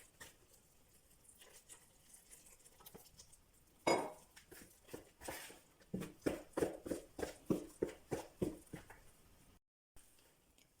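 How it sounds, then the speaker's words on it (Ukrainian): A spoon stirs thick, hot dumpling dough of flour and water in a bowl, with quiet scraping at first, then a run of rhythmic knocks and clacks against the bowl. "Спочатку вимішуємо ложкою, адже тісто дуже гаряче."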